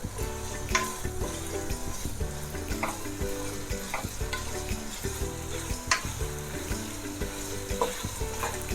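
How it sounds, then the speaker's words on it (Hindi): Bell peppers fry in a pan with a continuous sizzle, punctuated by occasional sharp spatula scrapes and taps against the pan. "2 से 3 मिनट में इसको अच्छे से फ्राई करूंगी।"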